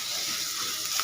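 Chilies sizzling in a frying pan over low heat, a steady, close hiss of hot oil with no talk, rising slightly at the very end.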